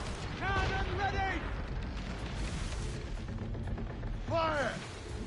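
Ship cannons fire in the Assassin's Creed Rogue video game during a naval battle, booming and rumbling steadily under shouted orders from crew voices.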